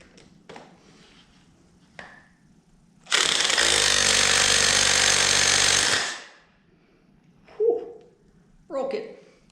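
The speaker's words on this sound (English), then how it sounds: "I'm going to hammer that screw down with my low power impact to get it seated" An impact driver seating a screw on a 2019 Harley Fat Boy fork during seal replacement hammers in one loud, continuous burst of about three seconds, then stops; faint voices and small knocks follow.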